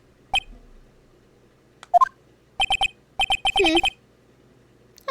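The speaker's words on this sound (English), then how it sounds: "what is with this stupid sounding ringtone?" A synthetic beeping ringtone from the Phoenix Wright Ace Attorney video game plays in short, bright, repeated bursts with a warbling trill, clear and alone against near silence.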